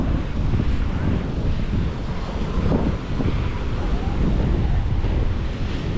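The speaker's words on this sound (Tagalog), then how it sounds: "Lalong lumaki ang alon." Ocean waves churn beneath strong gusting wind buffeting the microphone, a constant loud roar with no pauses.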